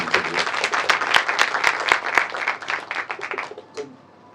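Audience at a Bollywood song launch and screening with celebrities breaks into enthusiastic applause: dense crowd clapping with a few sharp, loud claps up close, tapering off toward the end.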